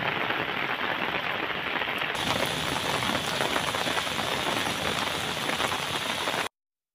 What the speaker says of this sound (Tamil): சுற்றுவட்டார பகுதிகளில் கனமழை பெய்தது